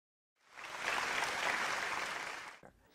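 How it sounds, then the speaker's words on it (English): A studio audience bursts into applause after a short silence, a dense, even wash of clapping that holds steady for about two seconds, then cuts off abruptly. "Applaud that."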